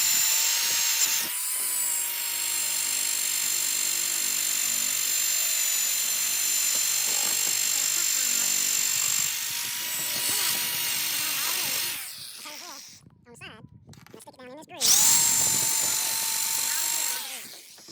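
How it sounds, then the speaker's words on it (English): A power drill running in forward while sealing a cargo trailer roof, a steady high whine held for long stretches, briefly cutting out with clattering before revving up again, loud and close. "What I've got is the drill running in forward, as you can see here, and then I bring it down."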